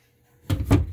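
A closet door opening inside a TrailManor camping trailer: quiet at first, then two close, loud wooden knocks and rattles, alone without talk.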